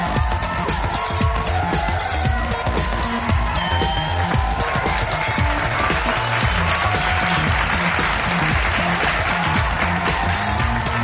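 A comedy club crowd in Dubai breaks into dense, loud applause that holds steady throughout, with scattered cheers folded into the wash of clapping.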